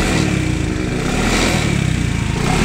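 A used Suzuki Address or Nex 2 automatic scooter has its engine opened up, giving a loud, close, rough buzzing drone that stays high and steady throughout with a slight pulsing flutter.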